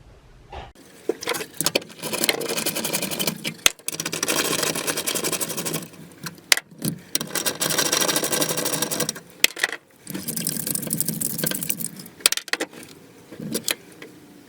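A shifter plate is torn out of a Mitsubishi Eclipse dash, giving long bursts of rattling, scraping plastic and metal with sharp clicks and knocks between them. The sounds are close and fairly loud, with no voices.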